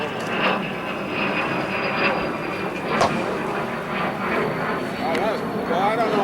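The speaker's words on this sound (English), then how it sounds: "I was filming the airplane" Airplane flying overhead, a steady engine drone heard in the background while people talk over it.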